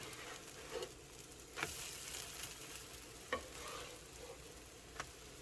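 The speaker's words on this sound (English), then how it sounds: "We're gonna get some of this grease on there, get it ready, and we're gonna flip these." Pancake batter frying on a greased griddle gives a steady, quiet sizzle throughout, with a few soft scraping taps from a spatula.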